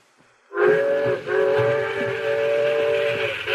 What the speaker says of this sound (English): do you hear that whistle?